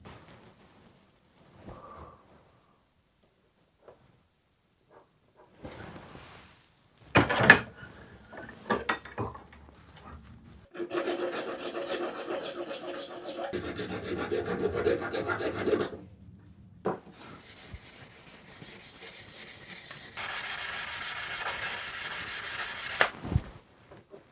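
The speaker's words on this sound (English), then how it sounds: "file down to it and then do some sanding" Rough rasping strokes of a file on a metal bar, then longer stretches of steady scratchy sanding, close up, with brief pauses between bursts.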